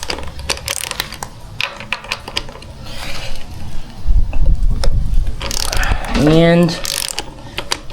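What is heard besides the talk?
ratchet loosening motorcycle fork cap bolts, 23 mm socket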